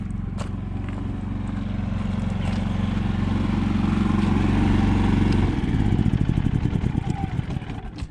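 A generator runs with a loud, steady, low drone, then is switched off around the middle, after which the hum winds down into a slowing pulsing rattle.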